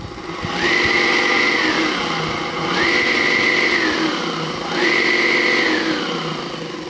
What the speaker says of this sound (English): It's a saw bench.